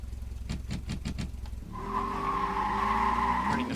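In a video game, a Delta Buffalo GT and a Rebel Rampage launch on an acceleration speed run: rhythmic idle engine pulses give way to a rising, sustained engine roar with tire squeal.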